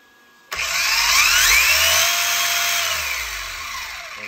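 A Traynor RC Corvette Stingray with a Velineon VXL-3s brushless motor revs suddenly to a loud, high electric whine that holds steady, then slowly winds down, close and alone with no talking.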